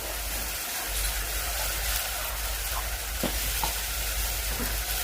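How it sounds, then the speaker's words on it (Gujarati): Food sizzles loudly and steadily as it is stirred and mixed in a pan, with a few scraping knocks of the utensil heard close up and no speech. "મિક્સ કરી લઈએ કમ્પ્લીટ"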